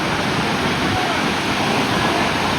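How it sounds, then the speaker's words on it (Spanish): Waves on the shore of a hot-water beach at Las Peñas, Ecuador, with the rising sea giving a continuous, loud broadband roar of surf with no clear breaks. "el mar está creciendo ahora, así que ya está viniéndose más para este lado"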